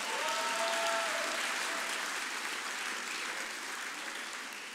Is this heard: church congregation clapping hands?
yes